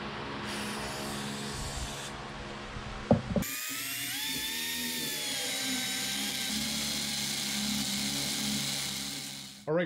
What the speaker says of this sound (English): So as I'm drilling, I can ensure that my drill bit is staying straight in here.